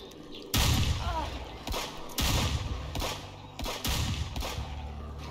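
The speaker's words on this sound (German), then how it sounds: "Wieso schießen die auf mich?" Gunfire in the zombie survival game HumanitZ: several loud, close bursts of shots in separate volleys, with short gaps between them and heavy low thumps.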